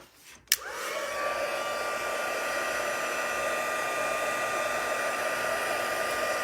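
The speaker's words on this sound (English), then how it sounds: "Now I'm going to make a little bit of noise with my heat tool." Electric heat tool used to melt embossing powder for stamping crafts, switching on with a click and then blowing as a steady, even whir like a hair dryer, close and moderately loud, no talking.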